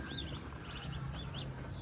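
Young ducks in a backyard duck-raising setup in the Philippines, soft quacks and peeping calls overlapping in a quiet, continuous chorus at moderate distance.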